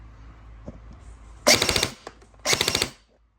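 Double Eagle M906 airsoft rifle fitted with a brushless T238 motor firing full auto, two short rattling bursts about a second apart, loud and close with quiet gaps around them.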